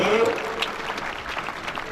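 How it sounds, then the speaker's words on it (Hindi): Crowd clapping at a police constable passing-out parade, a short burst of applause from many hands, moderately loud and continuous, with a voice over a loudspeaker alongside. "बड़ा जोरदार तालियों से इनका स्वागत करिए।"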